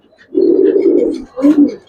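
Two deep, soft coos from a male and female pair of Giribaz pigeons close by, a long rolling one followed by a shorter one after a brief pause.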